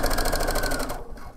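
Sewing machine edge stitching a collar onto the neck edge of a top, running loud and close in a fast, steady rhythm before stopping abruptly near the end.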